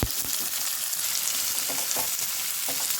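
Sliced onions fry in a hot pan for chicken masala, a continuous close sizzle with scraping stirs of a spoon at irregular moments, no talking.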